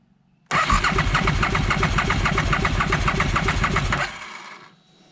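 Aprilia RSV1000 motorcycle engine cranking at full throttle during a compression test, a loud rapid rhythmic chugging of the starter that begins abruptly, runs for about three and a half seconds, then stops and fades.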